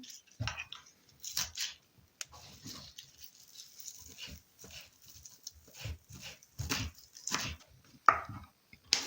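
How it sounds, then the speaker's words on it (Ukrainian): Irregular knife chops through herbs on a cutting board, close by, coming in uneven bursts with short quiet gaps between them. "Додаємо рис, нарізаю зелень."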